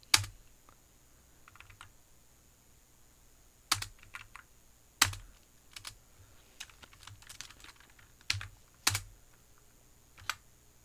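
Computer keyboard keys pressed in short separate bursts, crisp close clicks with pauses between them, like entering an Alt A shortcut, in a quiet room.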